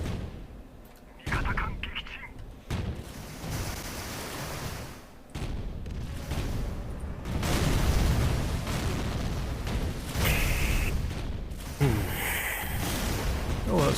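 Naval artillery shells and explosions boom across a Navy Field 2 sea battle, heavy blasts arriving in waves amid ocean wash, with someone talking over much of the barrage.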